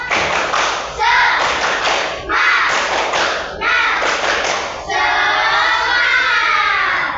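A classroom group performs the rhythmic Indonesian 'tepuk semangat' spirit clap, bursts of patterned clapping in several phrases with voices chanting along, loud and close.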